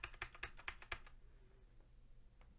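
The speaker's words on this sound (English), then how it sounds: "Some of these are keyboards, aren't they? With really loud buttons." Computer keyboard with really loud, clicky switches being typed on, a quick run of sharp close clacks that stops after about a second, leaving quiet room tone.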